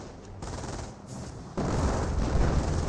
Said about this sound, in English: now got the 25-pounder barrage and mortars trying to hit that MG42